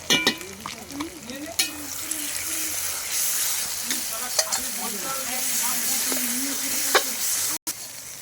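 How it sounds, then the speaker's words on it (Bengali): Chicken curry with tomato, ginger and garlic sizzling in a pan while a spoon stirs and scrapes it, with clattering knocks against the pan and faint voices in the background. "তো গাইস আমি একটু ঘাঁটছি"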